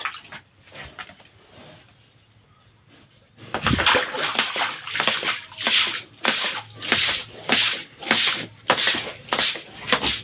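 Disinfectant is poured by hand over a pig pen, first in faint trickles and then in loud, rhythmic splashes of liquid hitting the floor, repeating roughly every half second.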